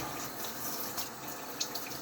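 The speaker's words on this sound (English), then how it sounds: "Let's put a little bit more water on." Water runs onto a coticule whetstone used for honing, a faint, steady trickle and hiss with a couple of small drips, close by and without talk.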